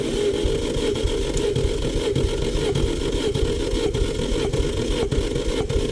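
Daewoo Lanos 1.6 engine running with a steady mechanical drone and a regular light knocking tick repeating through it, close up, with no talking.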